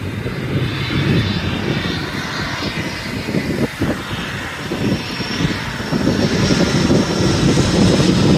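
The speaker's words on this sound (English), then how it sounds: "Well, it's an aircraft, doesn't matter." Aircraft engine drone from a plane flying at an air show, a loud continuous roar that swells slightly toward the end, heard alone without talk.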